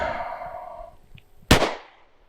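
A single sharp pistol shot cracks out during a shooting accuracy drill on a range, loud and sudden with a ringing decay, following a stretch of faint background noise.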